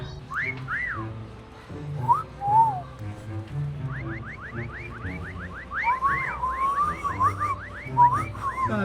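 People whistle in short rising chirps, first a few scattered calls, then a quick run of repeated whistles, with low murmuring underneath.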